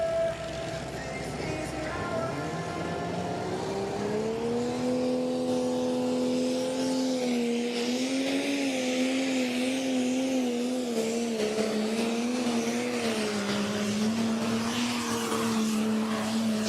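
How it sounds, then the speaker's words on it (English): Tractor pulling machines with V8 engines run at a tractor pulling event in Putten, a sustained roaring drone rising and wavering in pitch, heard from a distance under crowd ambience. "over on track number 1 I can hear the V8's running again,"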